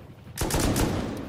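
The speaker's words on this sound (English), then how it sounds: "they're shooting at heli" Distant rapid gunfire crackles in Rust Console Edition as players shoot at a helicopter, breaking out suddenly after a quiet moment and continuing as a dense burst of shots.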